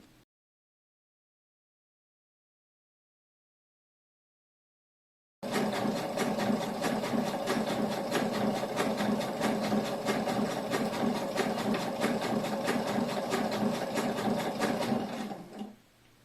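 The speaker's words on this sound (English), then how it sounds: "did you really want to see me stitch a straight line?" A sewing machine stitches a straight seam on a fabric shoulder bag, starting after several seconds of silence and running as a steady, close, rapid mechanical whir for about ten seconds before stopping.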